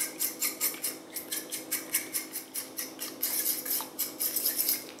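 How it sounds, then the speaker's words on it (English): Eggs are beaten into chickpea flour in a large bowl for homemade pasta, a rapid rhythmic series of light scraping and tapping strokes, close and steady, with no talking. "And now beat the eggs."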